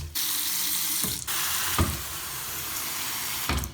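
Faucets on a reverse osmosis system run steadily with water rushing and hissing, broken by a few brief sputters and bursts as air purges from the lines, close up with no talking.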